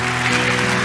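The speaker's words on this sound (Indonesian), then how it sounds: "Yang setuju boleh berikan tepuk tangan yang paling meriah buat Tuhan." Audience applause in a church revival worship service, a brief, dense burst of clapping heard close and alone.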